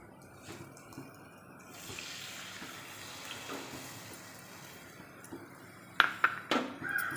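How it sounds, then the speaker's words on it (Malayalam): Kudampuli soaking water is poured into a sardine curry in a home kitchen. A soft, faint trickle and splash runs for several seconds, then a few sharp clinks of utensils follow near the end. "ഈ ഒരു വെള്ളത്തോട് കൂടി നമ്മൾ ഇത് അതിലേക്ക് ഒഴിച്ചു കൊടുക്കാം"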